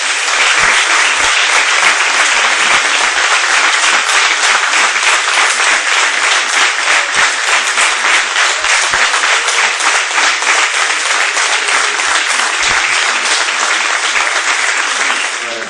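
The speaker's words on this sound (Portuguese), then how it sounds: "vamos dar mais uma linda salva de palmas para o nosso querido Jesus." A church congregation standing to applaud during a service, dense sustained clapping from many hands, loud and even throughout with no break.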